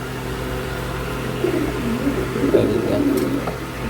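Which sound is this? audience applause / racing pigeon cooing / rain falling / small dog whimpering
racing pigeon cooing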